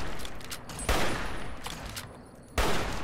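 Gunfire in Fallout New Vegas: a burst of rapid shots with two loud, sharp bursts standing out over a dense, continuous crackle of combat, close and harsh throughout.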